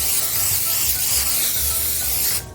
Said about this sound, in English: I'm gonna start spraying our tray just to make sure it doesn't get stuck with olive oil spray.